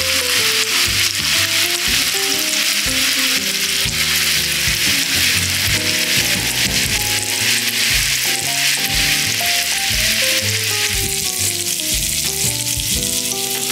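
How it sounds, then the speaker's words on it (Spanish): Cassava balls stuffed with cheese deep-fry in hot oil over medium heat, giving a loud, steady sizzle with crackling pops throughout and no voices. "vamos a bajarlo a fuego medio para que podamos freír bien nuestras bolitas de yuca y adentro el queso pueda derretirse mucho mejor"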